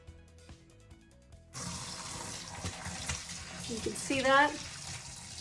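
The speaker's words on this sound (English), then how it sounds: "I'm pouring chicken broth out, and there is all kinds of stuff coming with it." Chicken broth pours out of a pressure cooker in a gushing, splashing stream that starts abruptly and runs steadily, with a person talking briefly over it.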